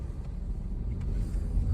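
Road traffic in the rain, a steady low engine rumble of cars passing close by, fairly quiet and even with no talking.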